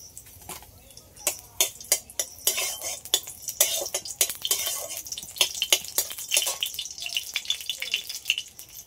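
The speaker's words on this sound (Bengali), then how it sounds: "দুটো শুকনো লঙ্কা নিয়েছি, এইভাবে কেটে দিয়ে দিচ্ছি তেলের উপরে" Two dried red chilies, cut into pieces, sizzle in hot cooking oil with a soft hiss, while sharp metallic utensil clicks and taps stir the pan close by.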